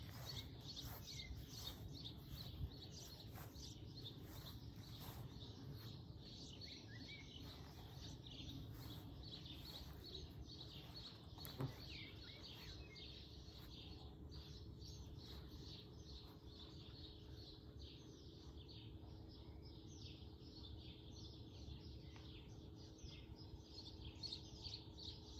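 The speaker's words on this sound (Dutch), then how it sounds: "Kijken of we die jonge vogeltjes kunnen horen die hierin zitten" Young birds chirp steadily from a tree in a home garden, a dense, continuous twittering at moderate distance with no talk over it.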